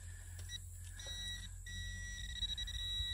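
A metal detector pinpointer beeps steadily at a relic-hunting dig site in Middle Georgia, giving a faint, continuous electronic tone broken by brief pauses, with no talk.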